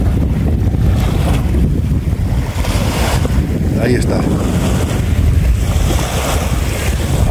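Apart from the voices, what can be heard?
small waves lapping on the shore of Lake Titicaca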